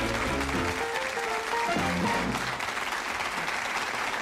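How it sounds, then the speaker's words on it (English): Studio audience applause on the 1983 Bullseye television game show, a dense, steady wash of clapping that fills the whole stretch with a faint musical sting partway through. "Give them a nice round of applause."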